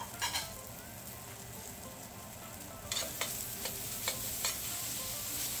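Thinly sliced onions and mushrooms sizzle in a smoking hot pan with a steady loud frying hiss, and a series of sharp scraping clicks from stirring joins in partway through.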